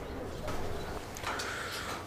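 Fancy black Romanian porter pigeons coo softly at close range in a loft, with a few low, murmuring calls over steady background noise.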